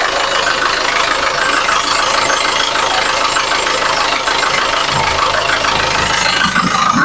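A 2008 Isuzu Panther LM Smart Turbo diesel engine, already warm, idles steadily and fairly loud at close range with an even, continuous clatter, and a few low thumps near the end.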